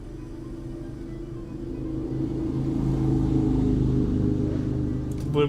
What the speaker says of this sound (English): Get the loud car outside.